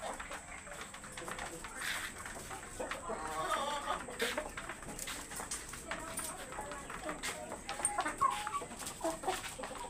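Chickens on an urban farm clucking and calling in irregular bursts close by, with a rooster-like call among them, over a steady background hum and a voice speaking at times.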